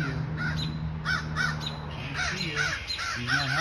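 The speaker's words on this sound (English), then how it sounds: "He's getting tormented by a crow." Several crows caw repeatedly in harsh, rhythmic bursts while harassing a hawk outside a window, the calls fairly close and loud over steady background noise, with no talking.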